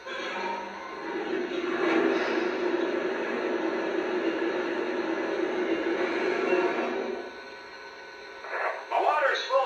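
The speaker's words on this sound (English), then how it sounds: "Here's the sound of water being added to the tender." Water being added to the tender of a Lionel Legacy Santa Fe 2926 model steam locomotive: a steady hissing, rushing fill sound lasting about seven seconds, then a short quieter gap before a brief burst of other noise at the end.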